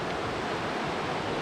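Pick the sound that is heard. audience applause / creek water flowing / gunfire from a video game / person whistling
creek water flowing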